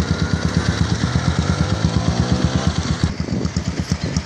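A Pulsar 200 NS motorcycle fitted with a Kit Racing exhaust idles close by with a loud, rapid, even putter of exhaust pulses that loosens slightly toward the end.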